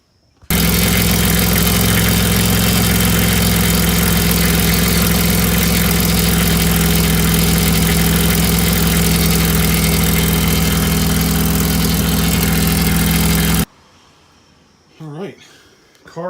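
A Dodge Stratus engine, just repaired for a leaking line, fires up abruptly and then idles loud and steady for about thirteen seconds before cutting off; a voice is faintly heard afterward.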